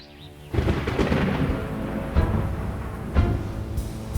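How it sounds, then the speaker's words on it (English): Storm thunder breaks in after a quiet start, a deep rolling rumble that swells and crackles with a couple of heavier booms, loud and close with rain-like hiss underneath. "As they searched, a storm hit."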